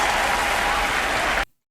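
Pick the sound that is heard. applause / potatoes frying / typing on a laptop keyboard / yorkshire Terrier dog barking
applause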